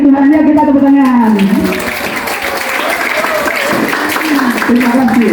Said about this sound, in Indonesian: ya kita tepuk tangan